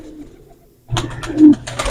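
A pigeon coos close by, a soft low throaty call that starts abruptly after a quiet moment and swells once before settling.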